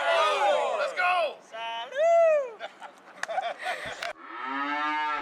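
Cattle mooing at the Lampasas cattle auction in Texas, several long, loud, drawn-out calls following one another closely, with a short gap before the last moo.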